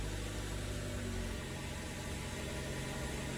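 A 2019 Toyota RAV4 engine running at idle, a steady low rumble with a dense mechanical hum that holds even and close throughout, no talk.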